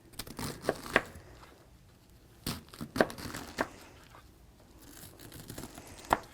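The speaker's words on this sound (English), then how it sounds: "And then we're just going to keep cutting." A knife slicing through food on a cutting board while preparing a tuna and black bean wrap, with several scattered short crisp cuts, close and moderately loud, with quieter gaps between them.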